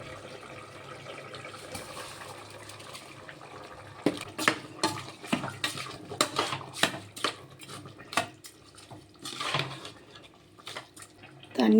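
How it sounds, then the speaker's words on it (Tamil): Rice grains rattle and patter into a metal cooking pot in a series of sharp, uneven clatters, with faint kitchen clinks around them. "இப்போ நம்ம அரிசியை சேர்த்துடலாம்."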